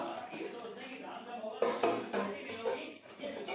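Fried prawns tipped into a simmering coconut-milk malai curry, with clinks and clatters of a metal pot, pan and lid, fairly close, while a voice talks over them.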